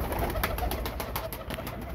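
Highflyer and breeder pigeons at a bird sale in Faisalabad coo softly in a short, continuous stretch over a steady background murmur.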